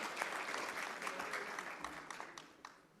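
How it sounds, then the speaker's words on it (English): Audience applause at a public programme relaunch event, a dense steady clapping that fills the room and slowly thins out toward the end. "I think we need to give a round of applause"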